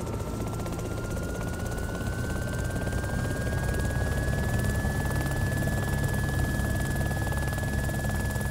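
A helicopter flies in the zombie survival video game DayZ Origins, its rotor and engine making a steady, loud, droning hum with a faint whine that slowly rises in pitch. It runs unbroken throughout with no talking.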